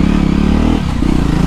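A BS6 Jawa motorcycle engine drones loudly while riding, a steady close thrum that dips briefly in pitch before pulling again, with rushing wind noise and no talking.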